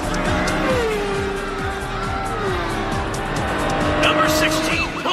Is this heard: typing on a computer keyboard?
no